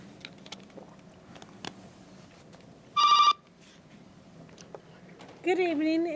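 During a city council meeting, a telephone rings in for public comment: one short electronic ring burst, then a warbling tone, over quiet room noise with scattered clicks and taps.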